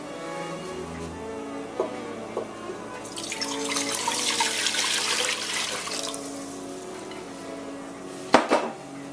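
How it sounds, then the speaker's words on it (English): Water poured into a soup pan on a stovetop burner turned up to high, a steady broadband rush swelling for a few seconds mid-clip amid faint kitchen clatter, ending with a couple of sharp knocks. "And I'm going to add my water."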